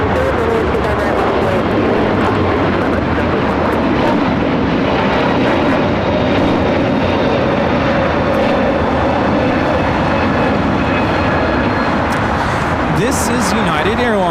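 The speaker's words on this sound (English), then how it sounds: "This is United Airlines 1260 taking off to Denver on the A321neo." A United Airlines Airbus A321neo jet takes off from LAX, giving a loud, sustained engine roar with a faint high whine that runs throughout, and voices talk over it.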